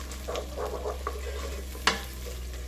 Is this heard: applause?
no